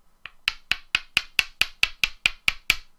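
Hard tagua nuts, also called vegetable ivory, knock together eleven times in a steady, even rhythm, each a sharp, bright click heard close and alone with no talk.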